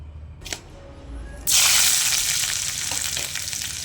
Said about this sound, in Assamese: পিঁয়াজ জলকীয়া মই দি দিলোঁ আৰু এতিয়া মই অলপ গল্ডেন হোৱালৈকে এইখিনি ভাজি থাকিম।